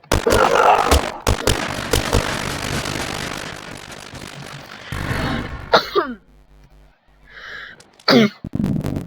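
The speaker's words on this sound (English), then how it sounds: "Sorry, I was coughing." Several sharp coughs burst out near the start amid rumbling noise, followed by quieter shuffling and a couple more abrupt bursts.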